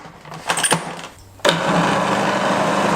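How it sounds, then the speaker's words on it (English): A food processor pulses icing sugar and flour for shortcrust pastry, with a few clicks and short stirs, then the motor starts abruptly and whirs on steadily, loud and close. "we're gonna whiz this, give it a whiz, as I said, just a little pulse"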